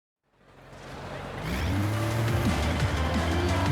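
An inline-five car engine starts up out of silence and revs, its rising, throaty roar growing louder and holding strong, close by.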